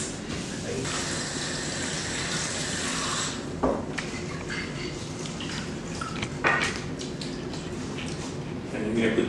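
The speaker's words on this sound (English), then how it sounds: "So now we're gonna wash our rice." Tap water runs steadily while rice is rinsed in a kitchen sink ahead of cooking curried shrimp and rice, a continuous close wash broken by a couple of brief clinks and splashes, with talk partly over it.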